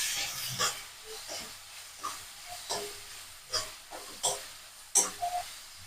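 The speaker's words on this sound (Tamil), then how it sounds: "ரெண்டு இனுக்கு கருவேப்பிலை போட்டு அதையும் நல்லா வந்து வதக்கி விட்டுக்கலாம்" Green chillies and curry leaves sauté in hot oil in a pan for a kurma, giving short, irregular bursts of spluttering hiss and crackle, each rising and fading quickly over a quiet background.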